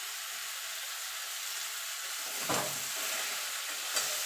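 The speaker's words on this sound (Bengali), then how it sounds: "দেখুন চাল কুমড়োটা হয়ে গেছে, এবার আমি নাড়িয়ে দেবো।" A pot of cooked ash gourd (chalkumro) is stirred, giving a continuous steamy hiss with a firmer scraping stir midway and a faint knock near the end, with no voices.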